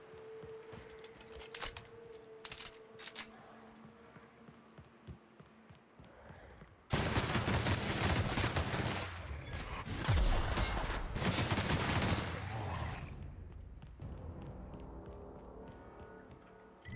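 Gunfire in the video game The Outer Worlds: after quieter in-game ambience, a loud, dense volley of rapid shots erupts and continues for several seconds before easing off.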